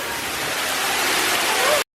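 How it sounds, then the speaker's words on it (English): A waterfall in a zoo's indoor rainforest exhibit gives a close, steady rushing hiss of falling water that cuts out abruptly near the end. "Got that cool looking waterfall."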